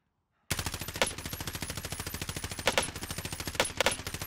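An M4A1 assault rifle fires in Warzone, a video game, with a loud, close, sustained automatic burst of rapid even shots that starts abruptly after a brief silence, with a few sharper impacts mixed in and no talking.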